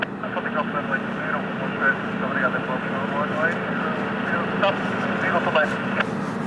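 An Airbus A330neo airliner takes off at Lisbon Airport, a steady, loud engine roar that holds at a constant level throughout, with voices talking over it.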